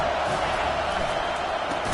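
Dense roar of a football stadium crowd at a ball game, a steady wash of many voices holding level for two seconds with no single sound standing out.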